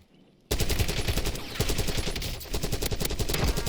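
Rapid automatic fire from a Krig C rifle in Warzone, loud and close, with continuous bursts starting abruptly after a brief quiet moment and running to the end, broken by one short pause.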